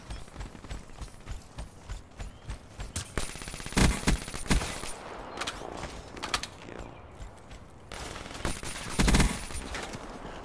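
VMP submachine gun firing in Black Ops 3, rapid bursts of automatic gunfire with sharp loud volleys around the middle and near the end, mixed with clicks and game mechanism sounds.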